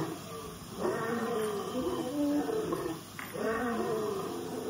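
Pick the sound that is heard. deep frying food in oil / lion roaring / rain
lion roaring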